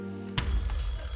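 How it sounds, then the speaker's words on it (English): A telephone rings on the game show Deal or No Deal, a sharp bell-like ring that starts abruptly and continues steadily, loud against the studio hum. "we get a bit nervous when the phone goes before the question"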